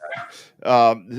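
A dog barks in short bursts in the background during a motorsport podcast conversation about racing, with a person speaking over and between the barks.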